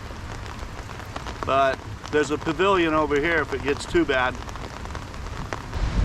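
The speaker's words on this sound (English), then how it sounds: "I think we still got a little ways to go to wait until the rain stops." Rain falls steadily outdoors during a truck camping trip on Hawaii's Big Island, a soft continuous patter heard nearby while someone talks over it.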